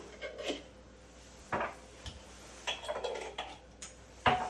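Lids set back onto three small jars of rice, giving a few separate light clicks and taps spaced irregularly, close and fairly quiet with no talking.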